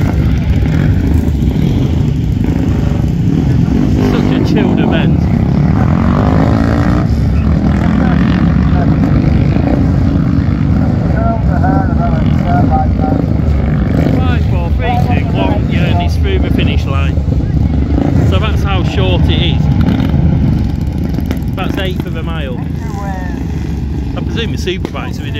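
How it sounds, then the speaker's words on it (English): Superbikes racing past at a motorcycle sprint at Leighton Hall, engines loud and sustained throughout with rising and falling passes, mixed with voices and crowd noise. "super bikes will be doing probably over a ton up here, over 100 mile an hour"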